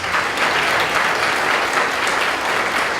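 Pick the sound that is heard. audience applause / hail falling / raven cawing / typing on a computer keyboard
audience applause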